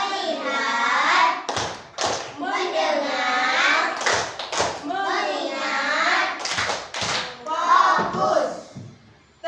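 Children in an Indonesian primary school classroom chant short phrases in unison, punctuated by sharp bursts of group hand clapping in a repeating rhythmic pattern, loud and close.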